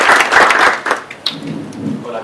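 An audience at a talk on trading gives a brief burst of applause that fades within about a second, and a voice then speaks over the quieter room.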